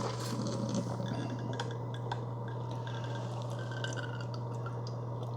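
Water trickles and drips steadily inside a Hamilton Beach 42500 cold brew and hot coffee maker, a close continuous liquid patter over a steady low machine hum, with no talk.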